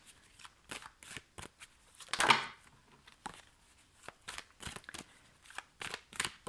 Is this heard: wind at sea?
no